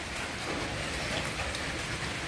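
Rain falling steadily, a dense even hiss of drops on surfaces, continuous and fairly loud with no talking over it.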